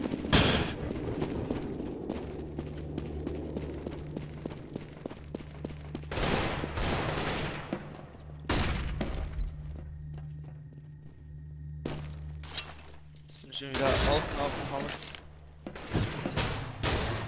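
Rapid gunfire in CS:GO on the Nuke map, including a Desert Eagle, crackling in dense bursts, shot after shot, with louder volleys midway and near the end over a steady low engine-like hum.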